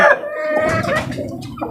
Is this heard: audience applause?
no